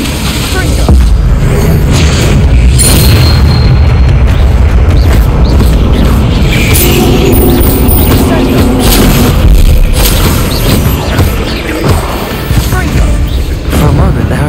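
An Incendio fire spell in Hogwarts Legacy bursts in a loud, dense fiery roar with booming low rumble, sustained and layered with game effects throughout, a voice shouting over it.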